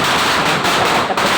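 A 1000-wala string of firecrackers goes off for Diwali, a dense, loud, unbroken crackle of rapid bangs that fills the whole moment without a pause.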